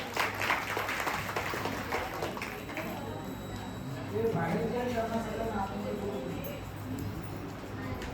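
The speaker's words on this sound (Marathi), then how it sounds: "आपण त्यांचं टाळ्या वाजवून स्वागत करूया." Scattered clapping rises from a church congregation at a Good Friday service as a speaker is welcomed forward, moderately loud and mixed with voices and room murmur.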